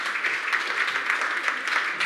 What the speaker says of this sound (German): Ja, Sie dürfen klatschen, selbstverständlich.